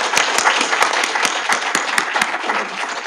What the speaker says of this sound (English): if you can join me with giving them a last round of applause